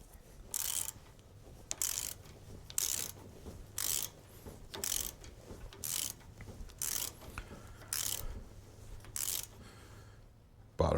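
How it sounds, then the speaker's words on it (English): A wrench ratchets as a nut is tightened on a Fox Podium shock, clicking in about ten short, evenly spaced bursts separated by brief pauses, close and fairly quiet. "we're going to tighten our nut"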